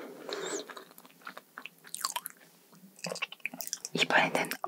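Cream scone being bitten and chewed in a close-miked dessert eating session, with soft crumbly crunches and moist chewing bursts in uneven rhythm, quiet and intimate with no talking.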